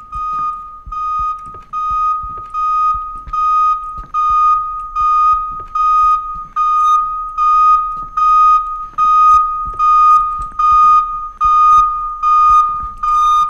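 A video game alarm beeps loudly and insistently, a steady, evenly spaced series of piercing electronic tones repeating with no other sound around it.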